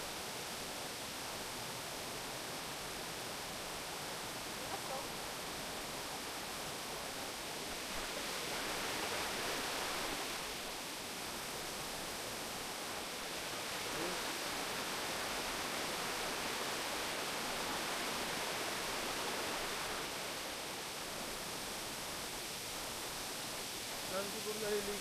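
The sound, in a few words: flowing water of a stream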